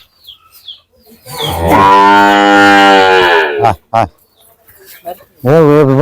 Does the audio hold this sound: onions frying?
no